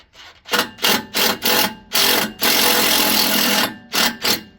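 A power driver sinking self-tapping bolts into a Jeep during a rebuild: several short whirring bursts with pauses between them, then a longer sustained grind, loud and close.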